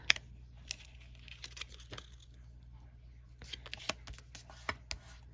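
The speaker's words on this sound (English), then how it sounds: "the pieces are all now neatly trimmed, so we'll just fold these in half." Trimmed pieces of paper folded in half by hand at a craft table, giving faint, close crinkles and sharp creasing snaps in irregular bursts, with no talk.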